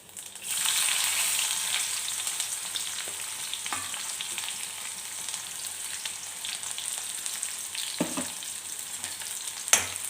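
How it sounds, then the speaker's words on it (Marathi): Mustard seeds, cumin, garlic and onion frying in hot oil make a continuous bright sizzle that starts abruptly and holds steady, broken by a few sharp spoon scrapes against the pan. "तेल छान गरम झालं तर मी त्याच्यामध्ये मोहरी टाकते जिरं आणि त्याच्यानंतर लसूण आणि कांदा"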